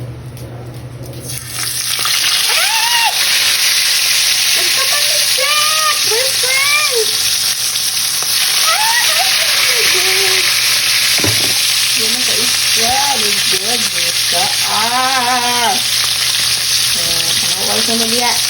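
Fish frying in hot cooking oil, a loud, steady, crackling sizzle that fills the whole clip, with occasional spatters and clinks and voices talking over it.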